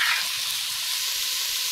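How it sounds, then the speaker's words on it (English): Olive oil and butter sizzle steadily in a pan as food is sautéed, an even, close hiss with no voices. "So we're sauteing in our olive oil and butter."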